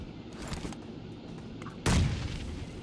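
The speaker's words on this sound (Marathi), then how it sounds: "बॉम्ब टाकू राहिले" Bombs exploding in the mobile battle-royale game PUBG Mobile: quiet ambient game noise and faint crackles, then one sharp booming blast near the end that trails off into a rumbling decay.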